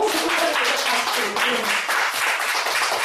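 A church congregation applauding during a service, a dense patter of clapping for a few seconds, with speech mixed in.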